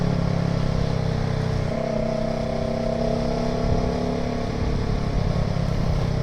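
A Kawasaki ER6N motorcycle cruises along a shortcut road on new tyres, its engine droning steadily and loud with a constant low hum and rushing wind throughout.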